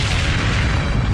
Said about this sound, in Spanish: Se produce otra explosión que despide a Jack fuera del avión